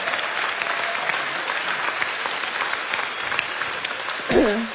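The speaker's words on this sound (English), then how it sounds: "Can we give those guys a round of applause?" A church congregation applauds at an Easter Sunday service, steady dense clapping that carries evenly throughout, with a short whoop or cheer near the end.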